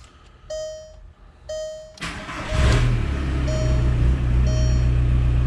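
A 2003 VW diesel Beetle starting up: dashboard warning chimes sound twice, then the starter cranks and the diesel catches into a steady, loud idle while chimes repeat faintly.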